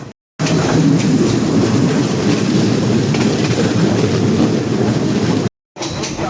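A train rumbles along the rails at close range in Asia, a loud continuous roar with clattering wheels, briefly cut by short gaps of silence.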